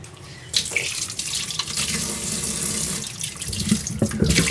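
Kitchen tap running water over rice as it is washed, a continuous splashing flow with sloshing and swirling bursts, close and fairly loud.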